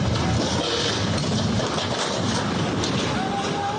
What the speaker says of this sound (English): Fiona's fierce winds gusting over 100 miles per hour